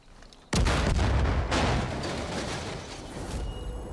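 Sudden loud explosion destroying a roadblock in Far Cry 5, a sharp blast followed by a long rumbling, crackling roar that slowly fades.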